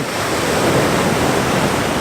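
Ocean waves breaking on foreground rocks along a coastline, a loud continuous wash of surf and spray with wind noise, no voices.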